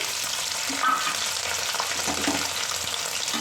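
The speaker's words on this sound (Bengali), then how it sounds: "এই পনিরটাও বেশি ভাজবো না, তাহলে শক্ত হয়ে যাবে, জাস্ট একটু হালকা করে সাঁতলিয়ে নেব।" Paneer cubes frying lightly in a pan give a steady, close sizzle with soft crackle and occasional stirring, loud and continuous throughout with no talk.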